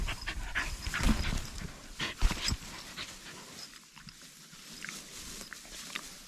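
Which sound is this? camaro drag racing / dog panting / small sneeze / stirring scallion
dog panting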